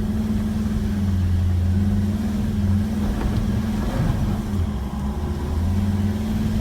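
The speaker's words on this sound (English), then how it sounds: "Did it easy, second gear, plenty of power on the BT50." A Mazda BT50 4WD, tyres aired down to 18 psi, climbs rocks in second gear. Its engine gives a steady, close, mid-pitched drone with a deep hum that holds even throughout, with no talking.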